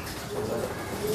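A young racing pigeon with its second feathers coos softly in a loft, a low murmuring call drawn out across the moment with faint background noise.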